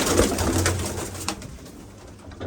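Jaunsari and Sialkot pigeons coo close by in a loft, soft throaty rolling calls repeating over a steady low murmur.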